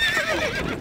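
A horse in the strategy game Stronghold Crusader gives a short, loud whinny that rises and then falls away, heard on its own with no talking.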